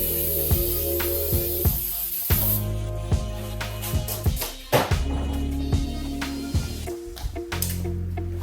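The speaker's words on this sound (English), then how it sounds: "A little bit of brake cleaner." Brake cleaner sprayed onto the brake of a Mazda RX7 FD, a steady pressurized hiss in short repeated bursts with a rhythmic mechanical tapping underneath, no speech.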